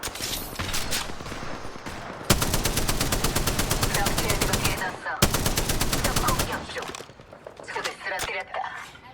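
A shooter video game with rapid automatic gunfire in two long sustained bursts, loud and close, plus scattered single shots.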